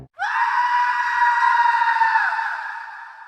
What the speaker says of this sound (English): A scream from the woods.